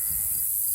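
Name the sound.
sheep flock bleating in rotationally grazed pasture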